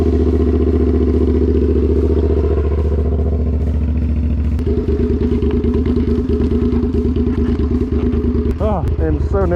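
A Suzuki SV650 motorcycle engine runs after restoration, loud and close. A smooth idle turns choppy and uneven partway through, ending in sputtering as it nearly dies.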